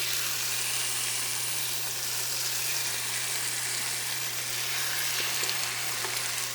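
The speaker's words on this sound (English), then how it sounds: "oil's nice and hot. We are going to lay these in there." Chicken pieces frying in hot olive oil, a steady, close sizzle that holds evenly throughout with no talking.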